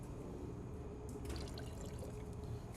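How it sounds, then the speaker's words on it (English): Bug and tar remover pours into a bucket of water, making a steady, quiet liquid trickle and splash that thickens slightly partway through. "I'm simply gonna apply about an ounce of product into this bucket of water here."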